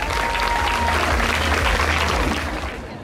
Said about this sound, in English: Big applause for Bobolin.